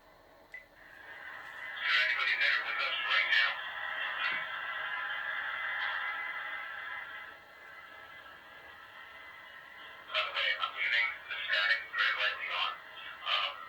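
Spirit box radio static hissing steadily while scanning, with bursts of choppy broadband noise early on, a quieter stretch of faint hiss in the middle, then more chattering bursts near the end.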